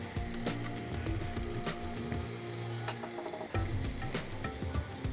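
Chili sizzling and frying in a hot pan while rogan josh is cooked, a steady loud crackle with stirring scrapes throughout.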